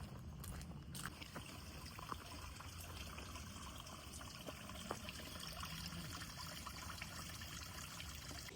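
Water trickles steadily at a trail water source along the Appalachian Trail, a soft continuous flow with faint splashes, fairly quiet and heard alone.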